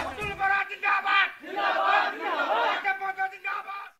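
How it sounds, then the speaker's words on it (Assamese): A crowd of political party supporters cheers and shouts in celebration outside a party office in Mankachar, Assam. The loud, ragged chanting voices rise and fall in close waves. "মানকাচৰৰ অগপ কাৰ্যালয়ৰ সন্মুখত পতাকা ফুটাই অগপ সমৰ্থকে প্ৰকাশ কৰে আনন্দ উল্লাস।"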